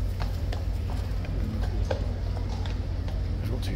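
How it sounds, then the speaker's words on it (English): Two large horses' hooves clip-clopping at an even walking pace at Horse Guards over a low, steady background rumble. "We've got 2 very large horses"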